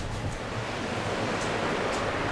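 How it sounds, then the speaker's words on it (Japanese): Soft ocean waves at Yukawa, Wakayama, wash in a constant low rumble, quiet and distant, with a gentle hiss of surf and no talking. "波の音と海の匂いが癒されます"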